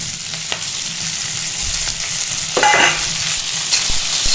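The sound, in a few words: frying green chillies and coriander in a pan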